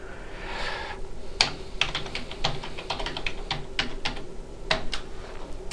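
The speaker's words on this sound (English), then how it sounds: "And I'm going to type in the new password." Keys are tapped on a computer keyboard to enter a new password, a run of distinct, uneven clicks close by with short pauses between them, and no voices.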